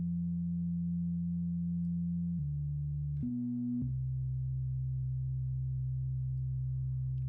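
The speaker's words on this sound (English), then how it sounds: "We've added an LFO to bring our static movement to something that's not static and more has some subtle detuning and subtle movement." A synthesizer pad with an LFO modulating its filter holds steady, sustained tones that shift in pitch a few times, smooth and continuous with no talk.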